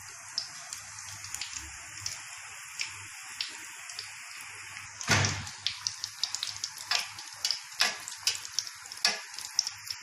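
Potato kachori frying in hot oil, a steady soft sizzle with scattered crackles and pops that grow denser and louder midway, including a sharp burst, with no talking.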